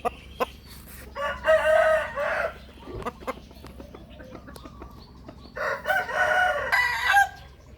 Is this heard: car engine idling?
no